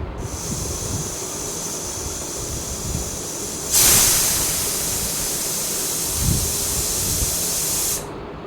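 A pressure cooker whistle cooking soaked dal for sambar bursts into a loud, steady hissing jet of steam partway through, holding for several seconds before cutting off abruptly.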